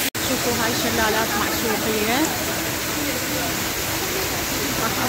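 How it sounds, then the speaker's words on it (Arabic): Waterfalls at Maşukiye in Sakarya, Turkey pour out a steady, loud broadband rush, with a voice talking over the roar in the middle of the clip. "شوفوا هاي شلالات"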